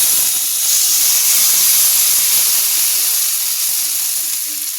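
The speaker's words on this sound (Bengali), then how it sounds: "তো পুরো পেস্টটা এর ওপর ঢেলে দিলাম" Fried pakoras in a pan sizzle loudly and steadily as a thick taro paste is poured over them, a continuous hot hiss with no voices.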